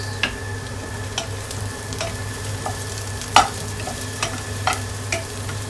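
Bamboo shoots being stirred in a pan with garlic, cooked in coconut milk, giving soft repeated scraping clicks of the utensil over a steady low simmering hiss, no talking.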